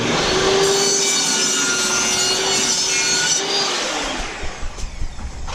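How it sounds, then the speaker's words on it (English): Jigsaw cutting through an interlocking garage floor tile, a loud, steady buzzing saw close by that runs continuously for several seconds before tapering into a few rough, uneven strokes. "And then use a jigsaw to make our circle."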